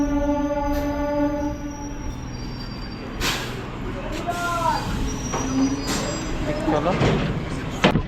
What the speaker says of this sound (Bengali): ট্রেন হচ্ছে 21 মিনিট লেট করে হাওড়া স্টেশন থেকে মেচেদা যাওয়ার উদ্দেশ্যে রওনা দিল